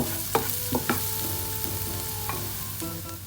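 Butter chicken masala with dry fenugreek leaves is stirred as it fries in a pan, giving a constant close sizzle with a few sharp spoon scrapes and clinks.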